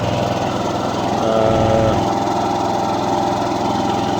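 A John Deere RK54 commercial mower with grass bag runs steadily nearby, a loud continuous engine drone with a brief rev swell partway through, no talk over it.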